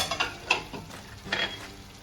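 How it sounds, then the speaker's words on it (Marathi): Fried paneer is tipped into a pan for paneer chilli and stirred, with a steady sizzle under scraping spoon strokes, close and fairly loud with no talk. "आता ह्यामध्ये जे पनीर तळून घेतलं होतं ते टाकून द्यायचं आपण"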